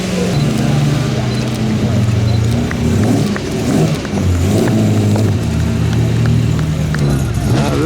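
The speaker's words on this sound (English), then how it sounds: "This sounds like another Fiat V8." A classic Fiat V8 with a Vignale body at the 2016 Pebble Beach Concours d'Elegance rumbles loud and close, its deep engine note swelling through repeated revs, with faint crowd sounds behind.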